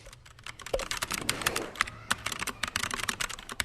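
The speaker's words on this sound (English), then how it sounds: "donate keyboards to even a kid like Sharon who just types really fast" Rapid typing on computer keyboards in a school setting, a dense continuous stream of crisp key clicks, close and clear, with no voices.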